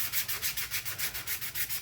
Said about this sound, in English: Sanding my life away.